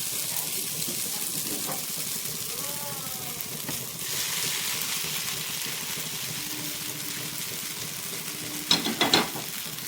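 Pahadi-style chowmein noodles and vegetables are tossed in a hot pan under a steady sizzle, with soft stirring, and a cluster of sharper scrapes and clatters comes near the end.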